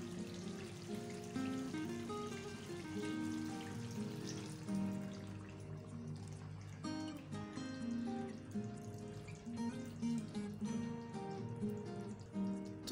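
Water is poured from a cup into a simmering egg and potato curry in a pan, a soft continuous splashing and trickling heard steadily and up close throughout.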